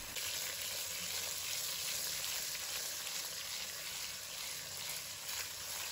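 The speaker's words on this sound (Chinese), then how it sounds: "鱼头我们是中火来煎制，让它可以快速的锁住水分。" A fish head sizzles in oil in a pan over medium heat, a dense, steady crackling hiss that runs throughout without pause, close and loud.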